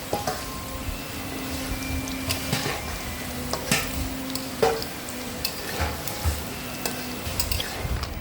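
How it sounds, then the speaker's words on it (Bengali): Aparajita flower pitha deep-frying in oil, a continuous close sizzle with scattered crackles and small spatter pops, a faint steady hum and occasional light clinks beneath, moderately quiet with no voices. "পরের পিঠাগুলো আমি ভেজে নিচ্ছি"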